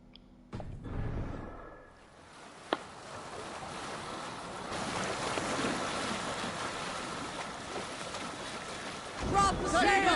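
A sailing ship at sea in Assassin's Creed on PS5, with a steady rush of wind and water that swells toward the end and a faint creak, while game voices call out over it.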